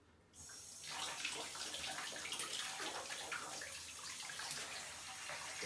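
Water runs steadily from a tap over a trail running shoe being rinsed clean, a continuous close splashing hiss that starts abruptly and carries on without pause.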